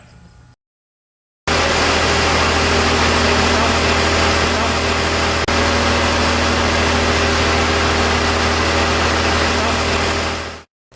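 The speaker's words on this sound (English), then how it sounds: "After I start the engine, I'm going to simply raise up the hydraulics tank" A loud engine running steadily with a deep, droning hum that holds constant, then cuts off near the end.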